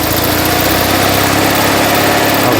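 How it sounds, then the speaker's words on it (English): Small engine of an Invacar invalid carriage revving up from idle as its centrifugal clutch begins to engage, a steady loud buzzing drone close by with no talk. "So if I raise the revs a little bit, we should get to the point where the clutch starts engaging."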